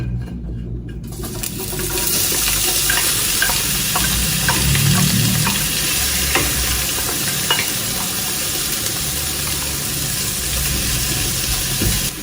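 Onion, tomatoes and a serrano chile cooking in a pan, giving a loud, steady, watery sizzle that starts abruptly and holds for several seconds, with faint utensil ticks.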